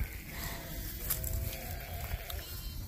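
Bleating from livestock among a group of ewes and goats on cereal rye, a goat with twins nearby; a few overlapping calls rise over a constant outdoor hiss.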